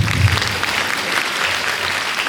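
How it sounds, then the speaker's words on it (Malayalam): An audience of parents and teachers at a school event claps together in a dense burst of applause that holds steady for a couple of seconds. "ഒന്ന് കൈയടിച്ചു വേണമെങ്കിൽ"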